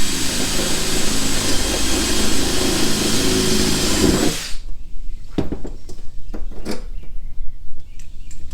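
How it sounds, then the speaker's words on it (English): A loud power drill whirs continuously for several seconds drilling a pilot hole during a solar panel installation, then stops, followed by scattered clicks and knocks of handling tools. "Drilling a pilot hole"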